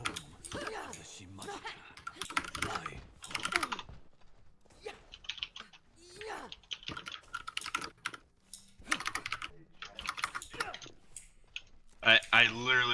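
Fast, clattering keystrokes on a computer keyboard run in uneven bursts under ongoing conversation, close and crisp.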